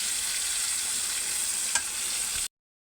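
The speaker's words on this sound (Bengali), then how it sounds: "আমি এটাকে নাড়িয়ে দেবো ভালো করে।" Spiny gourd (kakrol) frying in a pan as it is stirred, a steady loud sizzle with one brief scrape of the spatula, cutting off abruptly into silence near the end.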